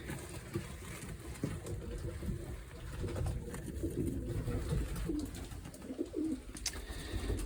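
Pigeons coo repeatedly at close range in a loft, soft throaty calls overlapping in an uneven rhythm against a steady low background with no talking.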